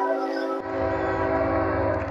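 A CSX freight train rolls by close up, a steady loud rumble of wagons with sustained horn-like tones, continuous throughout with no talking.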